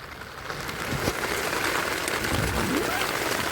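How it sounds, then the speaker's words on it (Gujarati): Heavy rain pours down outside a camping tent, a steady, dense hiss of drops drumming on the fabric that swells slightly and continues without any voices. "વરસાદ ચાલુ જ છે"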